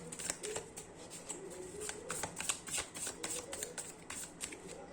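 Tarot cards are shuffled by hand in a rapid, even run of soft riffling flicks, close and quiet, continuing for several seconds without speech.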